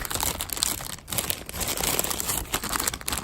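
Plastic packaging around a potted blackberry plant crinkles and crackles continuously as it is handled close up, a busy rustling that runs without pause.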